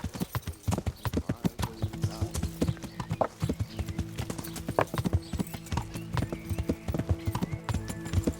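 Steady clip-clop of horse hooves drawing closer in the video game Kingdom Come: Deliverance, a brisk galloping rhythm with a brief whinny, set against a low sustained musical drone.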